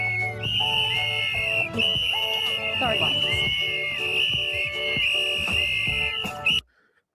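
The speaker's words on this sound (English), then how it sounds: "Multiple whistles." Several whistles blowing at once in a sustained, overlapping shrill chorus, loud and close amid a crowd, with a brief spoken phrase partway through before the sound cuts off abruptly.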